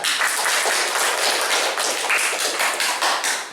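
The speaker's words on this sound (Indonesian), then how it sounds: "Ya, kasih tepuk tangan." Applause after a student's presentation, dense continuous clapping from a group throughout, steady and fairly loud with no talk over it.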